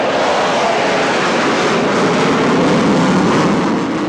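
Military jets roar overhead at the Chicago Air and Water Show, a loud, steady broadband engine rush that fills the whole stretch without break.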